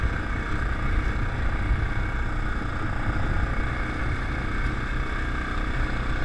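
A Yamaha Grizzly 700 ATV riding a muddy woods trail makes a loud, continuous engine drone mixed with wind rush, holding steady throughout without pauses.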